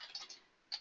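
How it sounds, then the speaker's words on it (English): Computer keyboard typing, a few quick key clicks near the start and a sharper burst at the end, close and fairly quiet with no talking. "I think it's best I just start typing and then I'll edit it."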